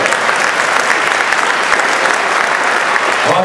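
Audience applause fills a hall at the close of the fourth round of an evening event, dense and steady clapping from a large crowd throughout.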